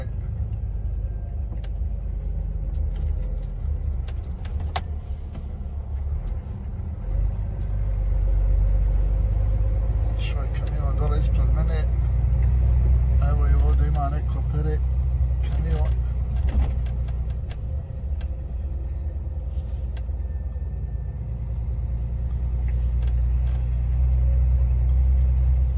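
Low, steady truck engine rumble close by at a loading site, continuous throughout, with voices talking over it and faint clanks and knocks.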